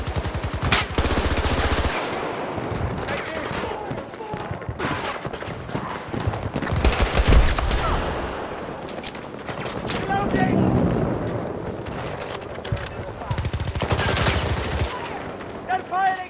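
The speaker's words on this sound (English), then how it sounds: "They're firing on me!" Loud, dense bursts of automatic gunfire rattle in rapid volleys throughout a P90 shooter video game firefight, with brief lulls between heavy exchanges and voices calling out over the shooting.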